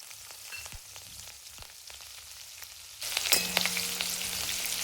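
Green chilies drop into hot oil while frying for a corn chivda snack; a quiet, sparse crackle jumps to a loud, dense, close sizzle partway through and stays strong.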